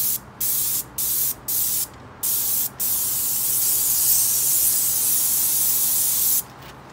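A paint sprayer loaded with Spray Shield coats a house soffit, loud hissing bursts in five short evenly spaced pulses followed by one long continuous spray of several seconds, close by.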